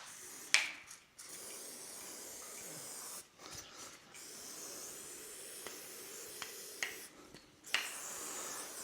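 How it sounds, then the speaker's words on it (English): GT85 lubricant spray hisses from an aerosol can in short bursts on a stuck part during a farmhouse renovation, with clicks and handling noises between the sprays, fairly quiet and close. "So let's give it a spray."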